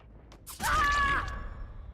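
A single harsh crow caw from a video game sounds once, short and moderately loud, over quiet background game ambience.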